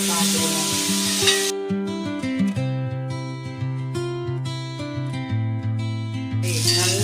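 Masala stirred and sautéed in a pan for noodles: a sizzling hiss at the start and end, with spatula scraping in between, mostly under steady background music.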